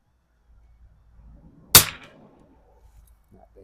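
A single sharp rifle shot from a 1949 Mossberg 144 fired at a splatter-burst target, a loud crack with a short decaying tail over quiet outdoor background.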